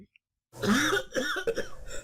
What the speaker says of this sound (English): He already coughed up his lungs and stomach.